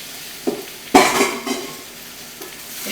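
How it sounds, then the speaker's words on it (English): Potatoes being stirred in a pot, with a sharp clank of a utensil against the metal near the start followed by softer scraping and light knocks, close and clear with no talk. "Give it a little stir."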